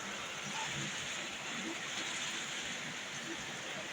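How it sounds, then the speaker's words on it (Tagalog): Heavy rain pours in a dense, steady hiss, close and continuous throughout. "Lakas ng ulan."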